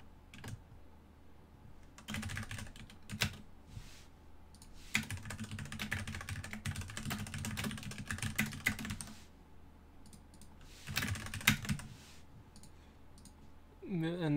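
Fast typing on a clicky computer keyboard during an early-morning coding session, coming in bursts of rapid, crisp key clicks separated by short pauses, close and fairly quiet.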